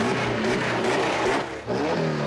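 A V8 race car engine at an oval raceway revs hard and accelerates. It makes a loud, close roar that swells, dips briefly near the end, then surges again.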